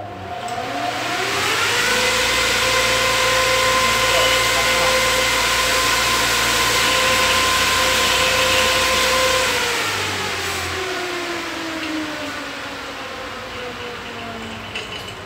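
A 16-inch ventilator fan runs steadily on test, a loud continuous whir with a sustained motor hum that eases off slightly near the end.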